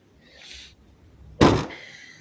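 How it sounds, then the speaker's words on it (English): The rear hatch of a 2010-15 Hyundai Tucson opens after unlocking: a short, faint whir, then a single sharp latch thunk. "And my rear hatch opens again."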